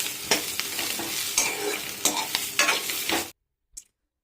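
Green chillies fry and get stirred in a pan with tamarind, a steady sizzle broken by scraping spatula strokes for about three seconds, then sudden silence apart from one faint knock near the end.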